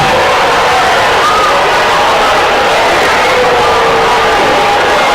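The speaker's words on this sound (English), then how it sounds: "you hear the crowd disagreeing, raining down with boos" A stadium crowd at a high school varsity football game, Omaha Central Eagles against Papillion La Vista Monarchs, boos a call: a loud, steady wash of many voices that lasts the whole stretch without a break.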